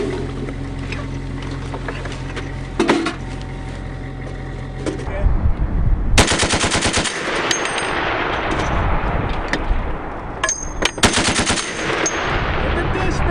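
Heavy machine-gun and tank gunfire during US Army training exercises in Germany, loud repeated bursts and sharp blasts over constant engine rumble, with shouted voices in between.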